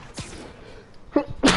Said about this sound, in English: I'm gonna sneeze again here.